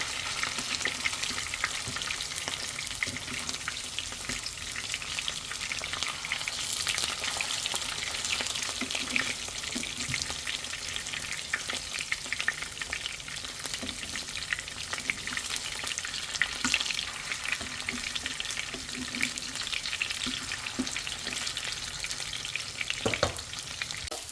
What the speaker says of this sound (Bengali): উল্টিয়ে পাল্টিয়ে একদম লাল লাল করে ভেজে নেব